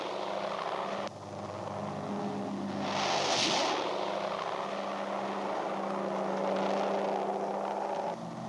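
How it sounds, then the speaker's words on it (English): C-47 troop carrier aircraft flying across the English Channel, a steady droning propeller-engine roar that swells slightly and holds, continuous and moderately loud. "Troop carrier aircraft cross the channel."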